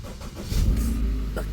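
A car engine fires up and settles into a low, steady idle close by, early in the morning in Goa.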